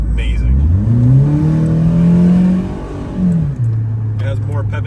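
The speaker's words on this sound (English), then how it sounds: "Right now the car is straight pipe." Straight-piped car engine, freshly fixed after a spark plug coil was left unplugged, running loud and close, with its pitch rising and falling as it is revved and then settling back to a steady idle.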